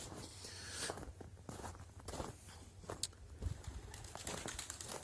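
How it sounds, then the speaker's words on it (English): Pigeons shuffle and flutter inside round bale hay feeders on a farm, with scattered wingbeats, soft coos and footsteps crunching nearby, loud and close. "That's a lot of pigeons."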